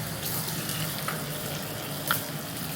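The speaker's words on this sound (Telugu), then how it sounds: "జీలకర్ర, ఆవాలు, వెల్లుల్లి వేసుకుంటాను." Cumin, mustard seeds and garlic spit and sizzle in hot oil as a tempering for tomato rasam, a steady close frying hiss with a few louder pops.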